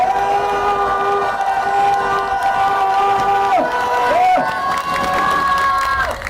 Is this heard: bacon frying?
no